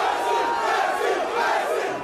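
A large crowd in Paris roars and cheers continuously as footballer Lionel Messi arrives, a dense, loud, sustained wall of shouting voices with no pauses.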